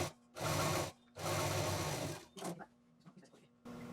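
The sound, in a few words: sewing machine stitching a folded fabric tote bag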